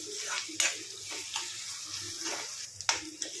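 Chillies and onions fry in a pan for a ridge gourd curry, giving a soft, continuous sizzle broken by a few sharp clinks and scrapes of stirring.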